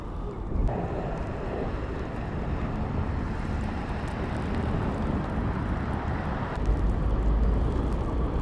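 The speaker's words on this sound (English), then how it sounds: "It's windy out here, guys." Strong, cold winter wind outdoors in Ukraine buffets the microphone in low, rumbling gusts, a constant roar that swells near the end, with no one speaking.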